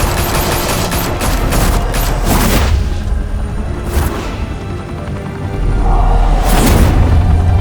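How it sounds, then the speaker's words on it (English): Heavy automatic gunfire rattles in rapid bursts within a Batman video game, with booming impacts and a loud blast near the end, all close and intense. "Open fire!"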